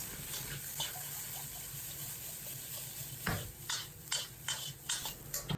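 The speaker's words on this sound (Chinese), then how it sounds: "放入炸好的豆角，少许料酒沿锅边淋入，开大火快速翻炒" Deep-fried green beans are tossed in a wok over high heat with a splash of cooking wine: a steady, close sizzle that breaks into quick, rhythmic spatula scrapes and tosses during the last few seconds.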